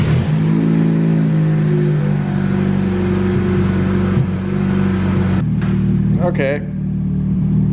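A Toyota JZX90 idles with a low, steady engine hum while being pulled out of a garage, revs shifting slightly near the end, with a voice speaking briefly over it.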